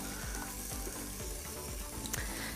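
Olive oil sizzles in the bottom of an Instant Pot Duo Crisp, ready for cooking steak: a steady, close frying hiss with faint scraping taps from stirring throughout.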